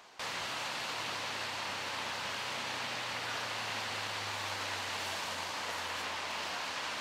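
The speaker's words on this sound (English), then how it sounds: "you can hear a little bit of the waterfalls there in the background" A steady, hissing rush of falling water fills the background at a disc golf course, constant and broad with no breaks, heard alone at a moderate distance.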